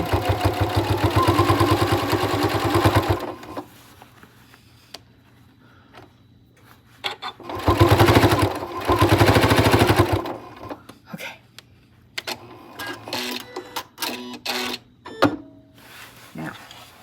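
Sewing machine stitching fabric around the edge of a piece for a tutorial project, running in loud bursts at the start and again mid-clip, with a quieter steady hum and small handling clicks between runs.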